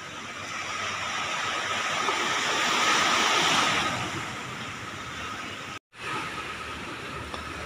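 Strong wind roars with crashing sea waves on an overcast shore, a steady loud broadband rush swelling in the middle, then a brief dropout before the surf and wind noise resume.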